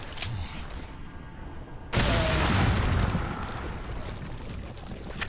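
A dynamite blast in the video game Resident Evil 4 erupts as a sudden loud broadband boom about two seconds in, followed by a sustained roaring rumble that slowly fades, over quieter game ambience beforehand.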